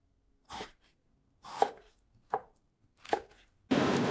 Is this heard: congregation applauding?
no